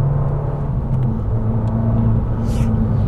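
A 2020 Abarth 595 esseesse's engine drones steadily while driving, a loud, continuous low rumble with a slight whir that holds an even level throughout, no voices over it.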